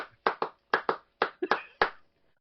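Hands clap sharply and close by, about nine crisp claps in uneven pairs and singles over a couple of seconds, with no talking.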